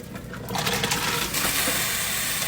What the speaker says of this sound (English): I'm going to put them in the boiling water.